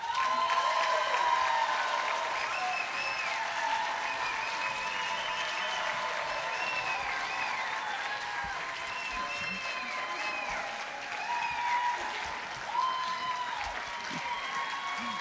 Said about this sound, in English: we're not doing very well at holding the applause